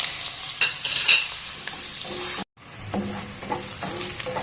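Onion pieces and fenugreek seeds frying in oil for fish curry: a close crackling sizzle with stirring scrapes, a brief cut in the middle, then more stirring and frying, and no talking.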